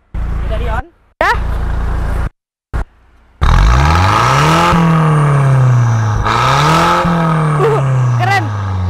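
Car engine revving loudly with the VVS exhaust valve switched on, a modified Mercedes, several rising and falling revs after short bursts, with people talking over it.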